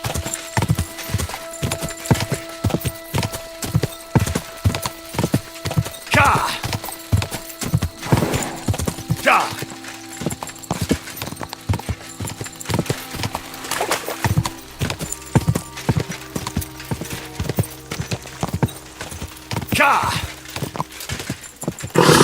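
Galloping horse hooves pound in a fast, steady rhythm up close in Kingdom Come: Deliverance II, with an occasional whinny and voices over the beat.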